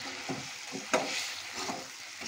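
Curry leaves hit hot oil in a pan for egg curry, giving a soft frying hiss with a sharp crackling burst partway through, then light sizzling and stirring. No voices.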